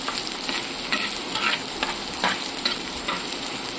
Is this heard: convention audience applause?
no